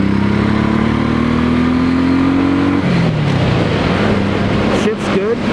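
Honda Shadow Sabre 1100 motorcycle engine rising in pitch through a gear, then dropping as it shifts and pulls again, a loud, close rumble with brief wind-buffeted bursts near the end.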